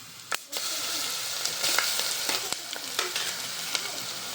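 Garlic sizzling in a pan alongside onions fried until reddened, a bright steady frying hiss with scattered sharp clicks and scrapes of stirring, close up and without speech.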